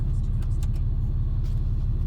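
A 2015 RAM 2500 with a 6.7 Cummins turbo diesel and deleted exhaust idles in a deep, steady low rumble, close and loud, with a few brief faint clicks over it.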